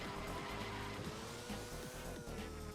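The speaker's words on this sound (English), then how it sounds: "Okay, it was probably just a car." Engine drone and tire skids from cars racing in Mario Kart DS, a steady buzzing engine tone with repeated squealing slides, faint and continuous without speech.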